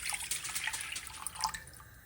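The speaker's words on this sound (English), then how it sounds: "a cup of water, which we will pour into the pot" A cup of water poured into a cooking pot for masala chai, a close, continuous bright splashing and trickling that runs throughout with no talking.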